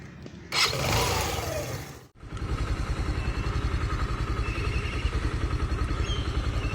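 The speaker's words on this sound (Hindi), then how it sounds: "जब आप इस बाइक को स्टार्ट करते हो तो क्या वाइब्रेशन फील होती हैं?" A Suzuki GSX125 motorcycle cranks briefly, pauses, then catches and settles into a steady, close idle with an even low putter that continues to the end; no talking.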